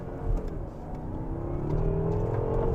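A 2014 BMW M6 coupe pulls gently from first gear, engine note climbing steadily from a low growl to a rising whir as it builds speed, heard from inside the cabin with no talking.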